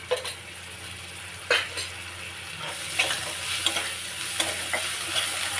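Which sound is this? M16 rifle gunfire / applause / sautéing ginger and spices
sautéing ginger and spices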